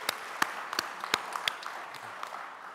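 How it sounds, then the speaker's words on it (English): Scattered applause from an audience at a pulses industry conference greets Varinder, with individual sharp claps standing out and a fairly faint, thin crowd patter between them. "Put your hands together for Varinder."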